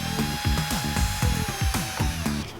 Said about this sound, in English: Put the tape on here so that I have a guide for where I'm going to drill my holes